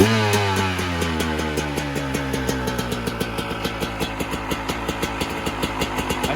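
A motorcycle engine fitted with a Suzuki carburetor needle idles just after a cold start, set slightly high, and the close, loud, rhythmic putter settles into a steady uneven beat.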